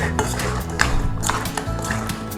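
Pork spare ribs stirred with black bean marinade in a bowl before steaming, dim sum style, giving close wet squelching and clinking of utensil against the dish in a steady rhythm, with no talk.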